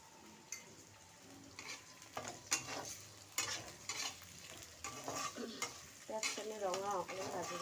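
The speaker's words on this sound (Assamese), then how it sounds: "পেঁয়াজখিনি ৰঙা অকণমান ভাজি দিছোঁ।" Onions and dried red chillies fry in a pan while being stirred, giving a steady sizzle broken by scraping strokes, with a few louder bubbling pops toward the end; no voices.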